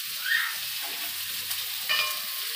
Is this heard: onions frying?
yes